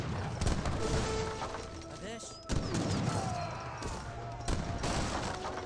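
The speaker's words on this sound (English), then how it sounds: "Augury Fort still firing away" Fort cannon and gunfire in Age of Empires 3, a match of Indians against Mexicans with Gurkhas and militia fighting, repeated thudding shots and volleys in a busy mix under continuous commentary.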